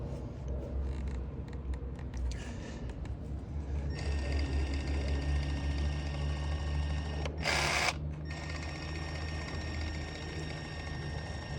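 A powered caulking gun presses epoxy out of a caulking tube, a steady mechanical whir and hum that rises after a few seconds and gives a brief louder burst near the end.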